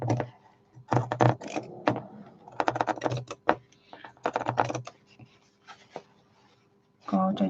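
Scissors snip through fabric while trimming away the bulk of a handmade cloth gift bag, with a run of close, crisp bursts separated by short pauses. Quiet voice sounds appear near the end.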